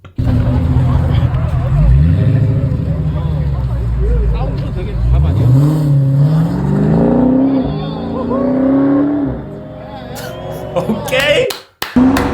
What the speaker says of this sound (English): Oh, just listen to the car.